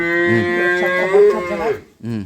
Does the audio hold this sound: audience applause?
no